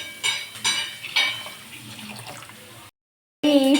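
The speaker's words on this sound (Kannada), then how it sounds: "ಈಗ ನೀರು ಹಾಕ್ಕೊಂಡು ಇಟ್ಕೋಬೇಕು ನಾವು ಇದನ್ನು" Water is poured onto washed toor dal in a bowl, a few splashy bursts followed by a steady trickle, a short silent gap, then another close pour.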